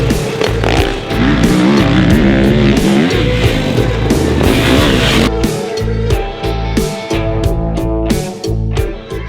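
A 2021 Kawasaki KX450X off-road motorcycle roars loudly and close, its engine revving up and down through shifts as it is ridden hard.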